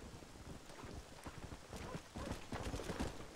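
Rapid clip-clop of a stallion's hooves trotting steadily in the video game Red Dead Redemption, with faint wind noise in the background.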